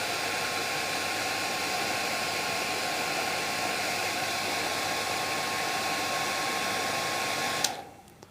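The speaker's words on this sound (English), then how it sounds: "what I'm going to do is just use the hairdryer to do that" A hair dryer blows steadily and loudly on a freshly tied fly head to speed its drying, a continuous broadband whoosh with a faint whine that cuts off near the end.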